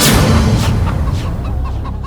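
A dense, loud clamor of chickens clucking and squawking together, with no pauses.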